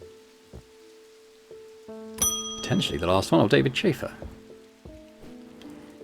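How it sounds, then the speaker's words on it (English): Steady rain falls in the video game Strange Antiquities, a soft continuous hiss beneath calm tonal music, with someone speaking over it in the middle. "Rain, again."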